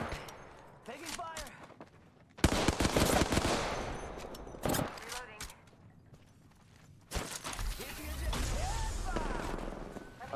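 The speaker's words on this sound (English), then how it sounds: "Taking fire." Several bursts of heavy automatic gunfire in an Apex Legends Kings Canyon match, loud and close, coming in clusters with short pauses between them while a player talks over the shooting.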